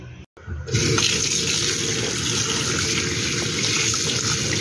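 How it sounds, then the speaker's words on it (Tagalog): Pickled mustard greens being rinsed under a running tap: a steady, loud rush of water splashing continuously after a brief pause at the start, with no talking. "Ito po is ibinabad ko na ng 10 minutes sa tubig para maalis yung dumi-dumi niya. Ayan, hugasan pa po ulit natin."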